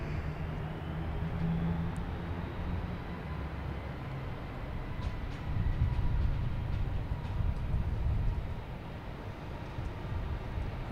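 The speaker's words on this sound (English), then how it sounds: "Let me get some more engine sounds going here." Jet aircraft engines at Boston Logan Airport produce a distant, broad roaring rumble that swells midway and then eases, faint and continuous with no talking.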